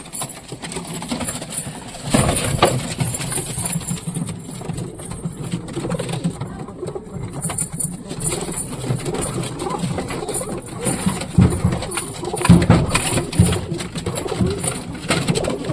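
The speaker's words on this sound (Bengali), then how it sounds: "সব মারপিট করতেছে কবুতর দেখতে সব কবুতরই মারপিট করতেছে" Pigeons coo and scuffle as they fight over food near their nesting spot, continuous close calls punctuated by louder bursts of wing-flapping and thumps, with no voices present.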